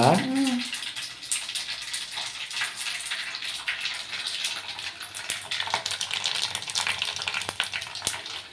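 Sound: curry leaves crackling as added to hot oil

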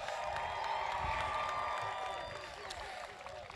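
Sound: graduation crowd applause

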